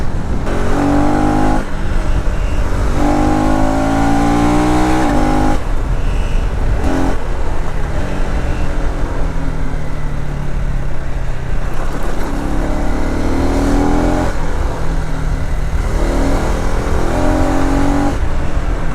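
KTM Adventure 250 motorcycle engine revving hard through rapid gear changes without the clutch, steady loud drone with rising pitch sweeps and brief dips at each shift, close and continuous with wind noise.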